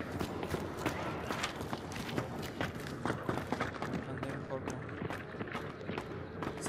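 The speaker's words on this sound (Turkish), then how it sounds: "Ses alıyorum yalnız, ayak sesi aldım." Footsteps in the video game Hunt: Showdown, played by someone running, come as quick, close, rhythmic thuds over a busy, noisy background.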